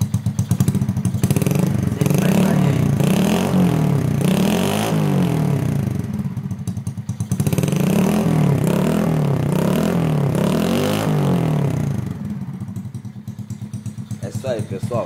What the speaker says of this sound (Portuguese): quer escutar um pouco o ronco do escape